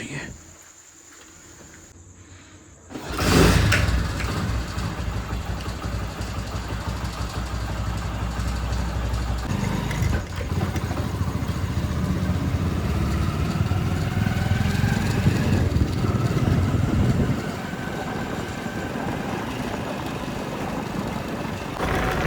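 A motorcycle engine starts up and keeps running at a steady, close rumble. It drones on with slight rises in revs for about twenty seconds.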